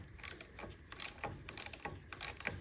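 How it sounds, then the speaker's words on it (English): A ratchet fitted with a 12mm socket loosening the kickstart lever bolt on a Honda CG125 motorcycle: a quick series of soft, close metallic clicks in uneven bursts, fairly quiet, with no speech. "I'm now going to remove the kickstart lever, and that's a 12mm socket."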